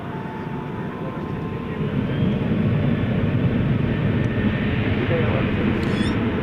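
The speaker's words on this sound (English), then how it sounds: "I believe this is Iberia finally moving out" An Iberia airliner taxiing out at night at DFW Airport, a steady loud jet engine roar that swells slightly and holds, with a faint high chirp near the end.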